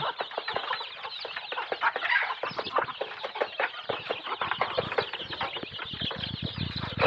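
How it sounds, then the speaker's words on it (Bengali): Desi hens and roosters cluck steadily and densely while feeding, with many overlapping close calls and occasional wing flaps throughout. "মোরগ এবং মুরগি ওখানে খাচ্ছে"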